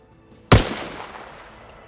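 A single M27 IAR rifle shot with STANAG rounds in Arma Reforger, fired at a tin fence: one sharp, loud crack followed by a long, fading reverberant tail.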